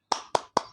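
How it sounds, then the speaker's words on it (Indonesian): Three sharp hand claps in a steady rhythm, close and crisp, performed as a spirited classroom clap, with no talking. "Tepuk semangat."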